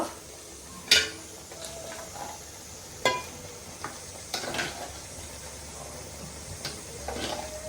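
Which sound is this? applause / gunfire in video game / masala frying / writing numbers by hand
masala frying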